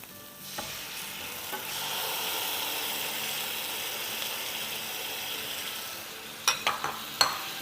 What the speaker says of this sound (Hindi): पहले दही को इस तरह से मिलाएंगे और फिर मसाले के साथ मिक्स कर देंगे